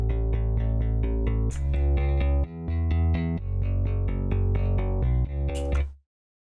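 Layered electronic bass in a remix, a bass-guitar-style tone stacked over a pure sine-wave sub bass, playing a loud, steady sequence of sustained notes that changes pitch every second or so before cutting off abruptly near the end.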